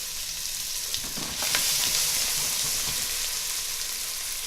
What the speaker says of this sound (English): we're just going to get our red onion straight into the pan and hear the sizzle